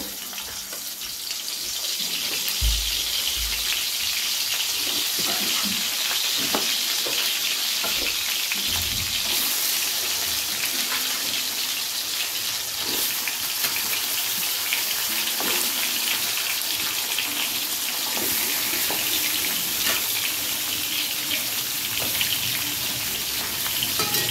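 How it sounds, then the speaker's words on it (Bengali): Pointed gourd (parwal) pieces fry in hot mustard oil in a kadai, giving a steady loud sizzle that continues throughout, broken by occasional soft stirring knocks. "তেলটা গরম হয়ে এসেছে, এবার আমি পটলগুলোকে ভেজে নেব।"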